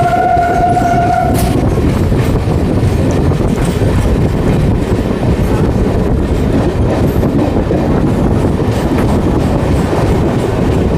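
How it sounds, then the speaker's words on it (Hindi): A MEMU local train pulls out of Champa Junction, with steady loud rolling rumble and rail clatter throughout and a brief horn-like tone at the start. "मैं चांपा जंक्शन से फ़िलहाल डिपार्ट कर रहा हूँ मेमू लोकल में"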